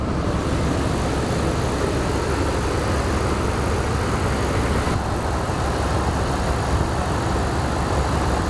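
A 1998 Jeep Grand Cherokee V8 engine running steadily, a constant loud rumble with no change in pitch throughout.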